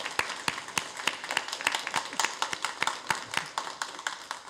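Church congregation claps in celebration during a service, a fairly quiet, slightly uneven burst of handclaps with individual claps standing out in a loose rhythm.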